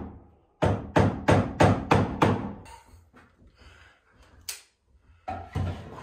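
Hammer blows ring out during roof beam installation on an off-grid bunkie cabin kit: six quick, evenly spaced loud strikes, then scattered lighter taps and knocks.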